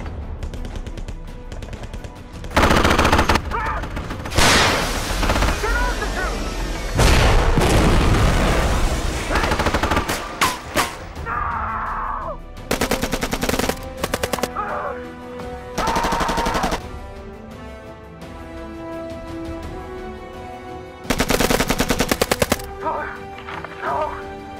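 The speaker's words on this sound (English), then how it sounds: "Riggs, give us some cover fire." Movie cover fire during a retreat: loud bursts of rapid gunfire and heavy shots alternate with shouted voices and quieter gaps, the barrages coming in several separate blasts.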